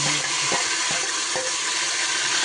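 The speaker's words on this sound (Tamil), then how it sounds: "அதோடு கொஞ்சம் ஜீரகம் போட்டுக்கலாம். பொரியட்டும்." Cumin seeds fry in hot oil in a pan with a steady, dense sizzle throughout and a few faint clicks under it.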